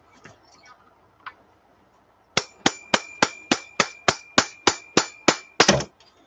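A hammer strikes a piece of extruded aluminum about a dozen times in a steady, fast rhythm, each hit a sharp, ringing metallic clang, close and loud after a couple of seconds of faint background noise.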